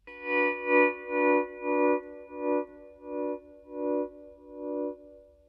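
Pedal steel guitar holds a sustained chord while a volume pedal swells it up and down in steady pulses, giving a slow, wavering vibrato effect, with no talking.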